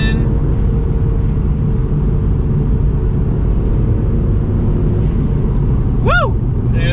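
A 2000s Audi TT 225 engine drones loudly and steadily from inside the car as it takes a corner on a canyon road, with a brief rising whistle near the end.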